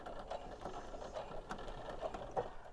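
A sewing machine with a walking foot stitches faux leather at reduced speed, a soft rhythmic mechanical chatter of the needle and feed ticking evenly at close range, with no talking.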